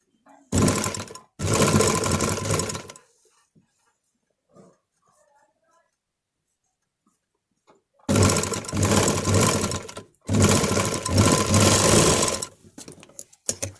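A sewing machine fitted with a special presser foot stitches fabric in loud, close bursts: two short runs, a long quiet pause with faint handling, then two longer steady whirring runs.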